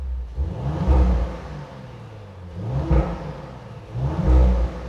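A 2021 Audi RS 4 Avant accelerates with its engine revving in three rising surges separated by brief easing, a fairly subdued, smooth drone heard without talk.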